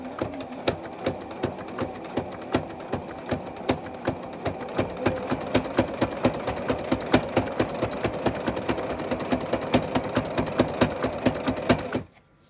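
A sewing machine stitches a fabric Christmas stocking in a steady, rapid mechanical clatter that runs close and continuous for about twelve seconds before stopping abruptly.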